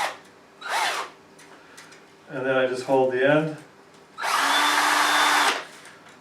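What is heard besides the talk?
power drill spinning a part held in its chuck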